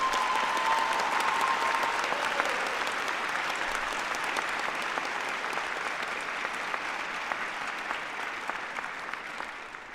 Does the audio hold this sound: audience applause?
yes